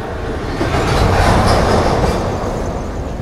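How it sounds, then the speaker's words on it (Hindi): An Indian Railways Duronto passenger train runs at speed on the Mumbai–Howrah line near Kharagpur Junction, heard from inside the coach as a loud, continuous rumble with rattling and clatter from the wheels on the track. "यहाँ अभी अपनी ट्रेन खड़गपुर जंक्शन को स्किप कर रही है।"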